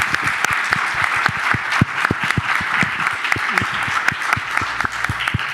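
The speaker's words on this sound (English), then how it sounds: "I think they deserve an applause" Audience applause for the panelists at a nuclear safety and radioactive waste forum, with dense, lively clapping from a sizable crowd, loud and sustained with crisp individual claps throughout.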